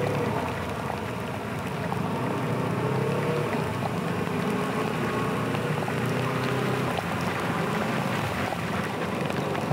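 Heavy rain pouring during a ride on a CFmoto 300SR motorcycle, a steady dense hiss of rain and wind rushing past the helmet, loud and unbroken throughout, with an engine drone low beneath it.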